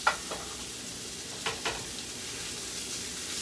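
Sausage and onions browning together in a pan for lasagna, a faint, steady sizzle with a few soft clicks of a utensil near the start.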